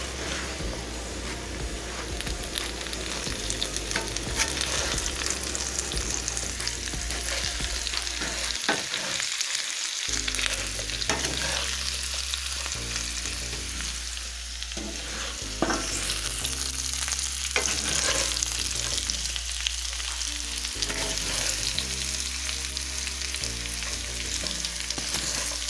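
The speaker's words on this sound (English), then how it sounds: "I'm going to let this simmer for maybe about 5 minutes" Skillet herb potatoes sizzle steadily in a hot pan, a continuous close crackle broken now and then by the scrape of stirring.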